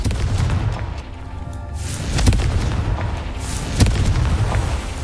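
In Hogwarts Legacy, the Confringo spell sets off booming explosions: a heavy rumbling blast with two sharp, loud impacts punctuating a continuous low roar of fire and debris.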